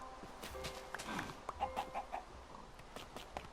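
Chickens clucking in the Minecraft video game, a few short game-sound clucks popping up one after another over a faint background.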